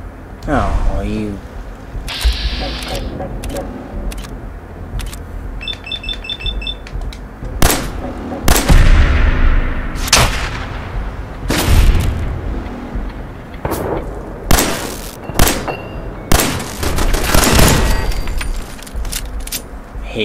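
Gunfire in the Fallout 4 video game on PS4 comes as a string of loud, sharp shots spaced irregularly, with mechanical clatter between them.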